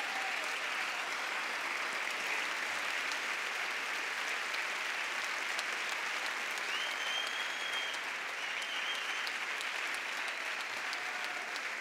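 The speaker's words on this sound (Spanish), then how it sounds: "¡Fuerte el aplauso!" A large audience applauds steadily and loudly at a 2020 anniversary gala for a carnival murga choir, the dense clapping holding an even level for about twelve seconds with no break.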